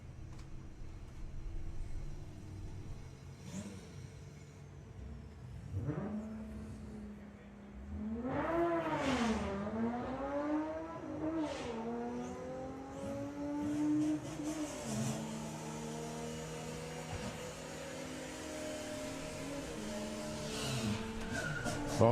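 Drag race cars, a VW Thunderbug and an Audi TT, run at the VWDRC Greenlight Nationals qualifying at Santa Pod, with engines rising in pitch as they accelerate, loud and close, lasting throughout.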